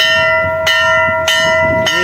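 A temple bell at the Maihar Sharda temple rings out three times at a steady pace, each strike sharp and bright with a long, humming ring that carries into the next, loud and close with no talk over it.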